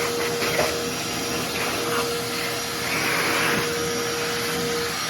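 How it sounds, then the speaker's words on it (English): A vacuum cleaner runs steadily and loudly up close while cleaning an engine intake, a constant whining roar with a faint tonal hum and small shifts in pitch. "Let me get the vacuum."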